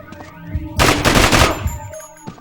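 A sustained Uzi burst in the video game Manhunt, roughly three-quarters of a second of loud, dense rapid fire standing alone, followed by a lone trailing shot.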